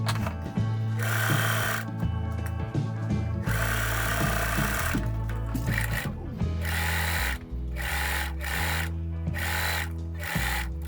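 Sewing machine topstitches a jumpsuit seam in short bursts, its motor whirring and changing pitch as it starts and stops repeatedly, close and clear with no talking.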